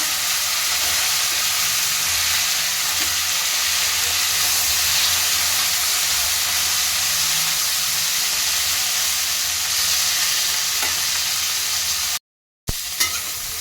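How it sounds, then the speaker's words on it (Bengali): Constant loud sizzling of cauliflower frying in hot oil, a dense steady hiss that cuts out briefly near the end. "এবার এই তেলের মধ্যে ফুলকপিটাকেও ভেজে নিচ্ছি"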